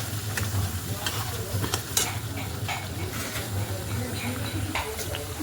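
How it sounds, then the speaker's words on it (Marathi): Ground masala roasts in hot oil in a pan, giving a loud, steady sizzle close by, broken by regular scraping stirs. "आणि त्याला आता लाल भाजू द्यायचा."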